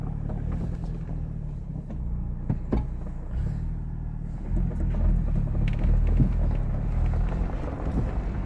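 A 2021 Ford Bronco Badlands drives offroad on Lost Knife Trail in Alberta, with a continuous low engine rumble and drivetrain drone mixed with wind buffeting on the microphone and a few bumps and knocks, without talk.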